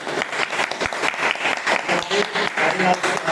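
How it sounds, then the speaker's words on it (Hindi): An audience claps in a burst of applause, fairly close and loud, with uneven pulses of clapping and a voice speaking over it. "ये हमारे जोरदार तालियां होनी चाहिए"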